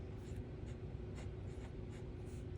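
Faint scratching of a Pilot Prera fountain pen with a medium italic nib moving across paper, soft repeated strokes forming a light, irregular rhythm close to the listener.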